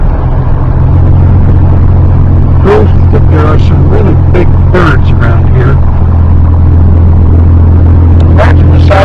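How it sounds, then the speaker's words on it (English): Heavy engine and road rumble from inside a moving car, picked up loudly by a camcorder, a constant low drone dominating throughout while someone talks over it. "there's an awful lot of noise from the car getting into the camera"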